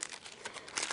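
Plastic packs of KHL hockey cards crinkle and rustle up close, a short burst of dense crackling that swells at the end, with no voices.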